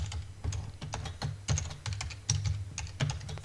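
Close, quick typing on a computer keyboard as an encryption password goes in: a steady run of light key clicks at an even pace, with no talking.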